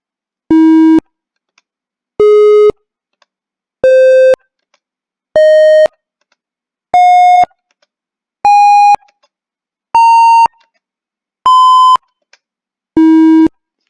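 Electronic tones from a micro:bit fruit keyboard, nine evenly spaced beeps about a second each, stepping upward in pitch before dropping back to the low starting note, loud and alone.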